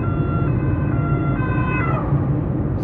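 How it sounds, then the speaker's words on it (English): Ambulance siren wailing past on a road in Latvia, a steady rising and falling tone held over low road rumble from inside a car, fairly loud throughout. "ambulance"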